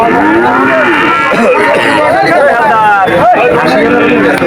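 Cattle and calves moo loudly and repeatedly at a cattle market, long drawn-out calls overlapping, with crowd chatter in the background.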